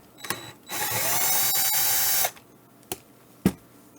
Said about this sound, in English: but if not, use the drill.